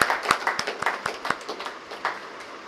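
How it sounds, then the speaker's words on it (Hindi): Audience at the grand opening of a hair clinic franchise in Gurugram clapping to welcome guests, a loose patter of individual claps, close and moderately loud, thinning out toward the end. "तो सभी जोरदार तालियों से हमारे मेहमानों का अभिनंदन करें"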